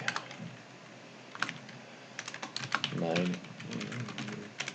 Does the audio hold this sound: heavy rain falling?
no